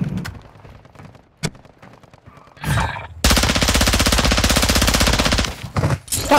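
Video game gunfire: after a few scattered thumps and a quiet stretch, a loud sustained automatic burst rattles for about two and a half seconds, then breaks off into a couple of shorter bursts.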